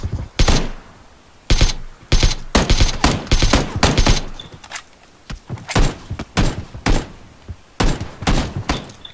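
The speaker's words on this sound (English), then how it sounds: "I see him taking shots as well." Sharp, loud gunshots crack in PUBG, a string of separate single shots and short bursts spaced irregularly, close and punchy with brief gaps between.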